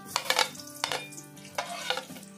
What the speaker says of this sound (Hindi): और प्याज को हम फ्राई कर लेंगे पहले।